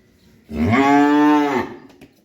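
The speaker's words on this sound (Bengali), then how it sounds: "এই হলো আজকের একটা সাত নাম্বার একটা যাত্রী বকনা বাছুর" An Indian Jersey heifer calf lets out a single loud, close moo lasting about a second, drawn out and then tapering off, with no talking.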